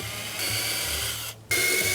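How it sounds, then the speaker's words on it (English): An electric drill slowly bores a second hole into a wooden school desk, a steady whirring grind that stops briefly, then resumes at the same level. "This time I'm taking it easy, taking it slowly, not pressing down, letting the drill bit do the work."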